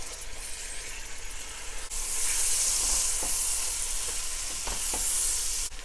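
Chopped tomatoes with crushed chilli frying in a pan for a courgette stir-fry masala, a low simmer that jumps to a loud, steady sizzle with occasional stirring clicks, no talking.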